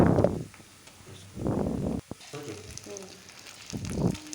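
Onions frying in oil with chili and ginger paste sizzle in several loud bursts, likely as ingredients hit the pan, with quieter crackling and stirring between them.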